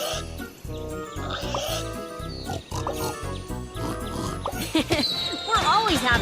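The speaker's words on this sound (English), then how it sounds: "Some pigs have wandered off from the farm." Cartoon pigs oinking in a children's animation, several short grunts and squeals over bouncy background music, with sparkly chime effects near the end.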